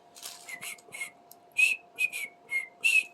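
A parrot whistles a series of short chirpy notes in an uneven rhythm, close and fairly quiet, with a faint steady hum behind it.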